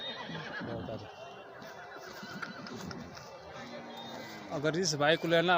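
A racehorse in Ballia, India, whinnies close by, with loud wavering neighs near the end, while people talk over it outdoors.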